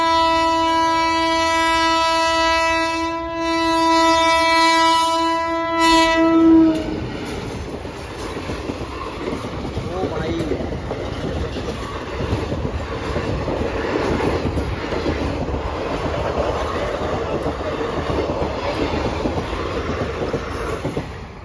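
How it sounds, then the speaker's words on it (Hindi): A train blows a long, loud horn on approach to a closed level crossing, then rumbles past with steady rattling wheels and carriages for the rest of the clip, close by, with no one speaking. "ये आ गई भाइयों ट्रेन।"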